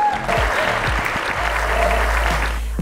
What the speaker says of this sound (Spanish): fuerte las palmas y que se escuche hasta mi casa